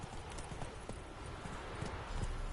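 Hooves of a ridden horse clip-clop in a steady walking rhythm on a video game road, fairly close and moderately loud, with no talk over them.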